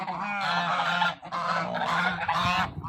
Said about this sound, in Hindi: ये डक भी यहाँ पे मौजूद है, बतखें देसी वैसे फार्म पे रखी हुई है।